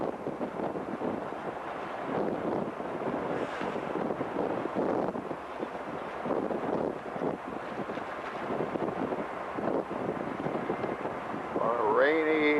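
Gusty wind buffeting the microphone on a rainy day near Galway, Ireland, a rough rumbling roar that surges and eases throughout, with a voice briefly at the end.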